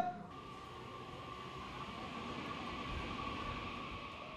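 A train moves through a station, a steady, loud rumble with a sustained tonal whine held throughout.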